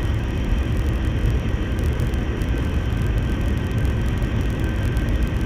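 Steady roar of an airliner's engines on landing approach, a dense broadband rumble that stays loud and constant throughout with no voices.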